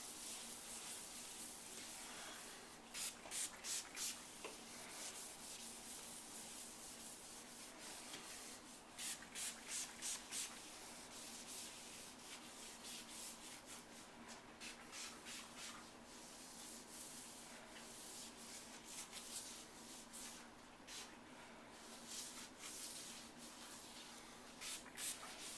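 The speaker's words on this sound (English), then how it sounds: "Make sure when you're doing the edges you roll and get the edges very well" Foam roller spreading sealer along the cut, polished edges of a granite countertop, a soft continuous rubbing hiss broken by short bursts of brisk back-and-forth strokes, close and fairly quiet.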